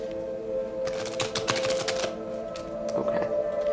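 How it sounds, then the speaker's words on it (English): A brand-new tarot card deck being shuffled, stiff cards riffling and slapping in a quick, close burst of crisp clicks over a steady background hum. "this deck is still so brand new that it's very difficult to shuffle"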